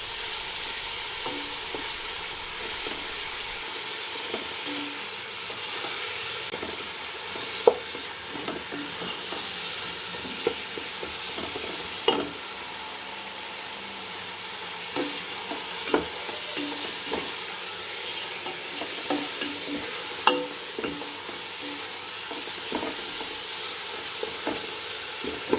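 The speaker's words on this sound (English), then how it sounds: "Cook all these ingredients together to form paste." Curd and spice paste for chicken biryani frying in a pan, a steady close sizzle running throughout with occasional soft scrapes and clinks of stirring.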